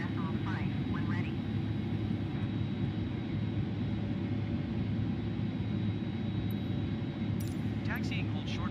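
An airplane taxiing toward the runway in a flight simulator video game drones with a steady, even engine hum throughout. Short bursts of chirpy radio-like voice sound come near the start and the end.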